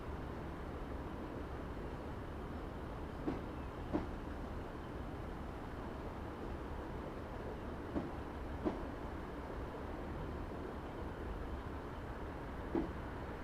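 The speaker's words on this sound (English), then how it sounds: "I'm just going to allow the train to coast into the platform at around 10 miles per hour" A Class 150 diesel train in Train Simulator 2016 coasts into a platform on the Norwich to Lowestoft route, giving a low, steady rolling rumble with a few faint clicks of wheels over rail joints, quiet and alone.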